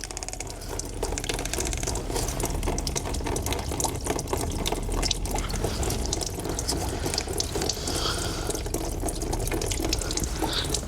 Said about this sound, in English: And that one still has a slow drip, so let me tighten this clamp up a bit.